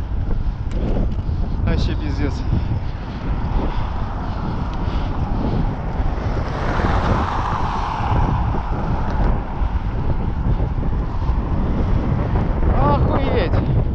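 Steady roaring wind buffets the microphone throughout, loud and continuous, with someone speaking briefly over it.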